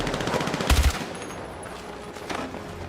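Video game weapons fire a rapid burst of heavy gunshots with deep booms, loud and close, then a quieter follow-up shot over a lingering ambient bed.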